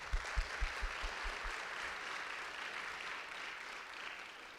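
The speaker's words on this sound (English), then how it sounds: "Can we all give them a round of applause?" An audience breaks into applause at a talk event honoring Freedom Rider Hezekiah Watkins. A few loud claps ring out first, then the clapping settles into a steady, dense wash of many hands that lasts to the end.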